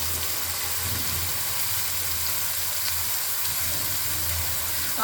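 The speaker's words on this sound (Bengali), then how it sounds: "আর এখানেতে আমি ফোড়নে কালো জিরে আর সর্ষে ফোড়ন দিয়েছি, আর চেরা কাঁচা লঙ্কা দিয়েছি।" Black cumin and mustard seeds with slit green chillies sizzle in hot oil as a tempering for a shapla (water lily stem) dish, a steady close hiss and crackle running unbroken throughout with no talking.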